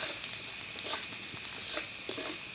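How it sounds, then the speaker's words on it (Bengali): Chopped onion fries in hot oil for a Bengali fish bhuna, a close, steady bright sizzle with small crackling spikes and no talking. "পেঁয়াজ কুচি দিয়ে দিচ্ছি"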